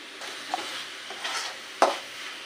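A spoon stirs melting sugar in a pan on a gas stove, giving soft scraping swishes with one sharper knock near the end, close and fairly quiet, with no talking.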